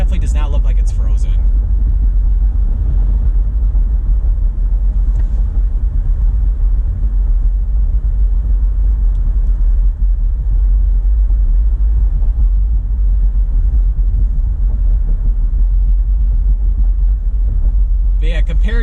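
A car cruises along Jefferson Avenue East in Macomb County, past a lakeshore with few traffic lights; a loud, steady low engine and road rumble fills the whole stretch without pause.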